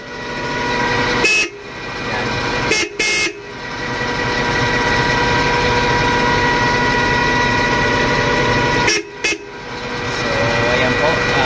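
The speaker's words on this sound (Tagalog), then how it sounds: "Busina ulit." A car horn wired in parallel blares loud and close in long sustained honks, broken by a few short gaps and quick toots, over a steady idling engine.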